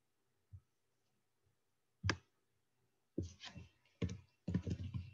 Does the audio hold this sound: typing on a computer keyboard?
yes